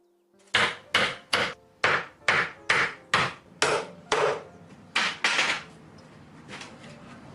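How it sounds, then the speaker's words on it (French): A hammer taps repeatedly on wooden formwork filled with freshly shovelled concrete, about ten sharp, evenly spaced knocks ringing close and loud before tapering into quieter scraping. "Il tapote le coffrage."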